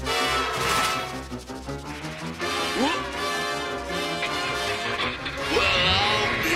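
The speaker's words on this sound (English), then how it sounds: "a train that can't resist smashing into a giant ceramic Abe Lincoln" A cartoon train smashing into a giant ceramic statue, a dense, loud stretch of crashing and clattering debris with sliding whistle-like sweeps layered over rumbling music, continuous for several seconds.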